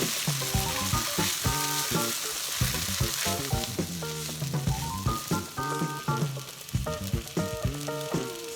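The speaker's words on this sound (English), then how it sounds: "Mix well and stir fry the ingredients for just a minute or so." Shrimp, vegetables and scrambled eggs stir-frying together in a pan for shrimp fried rice: a steady loud sizzle with repeated scraping and clinking of a utensil against the pan, no talking.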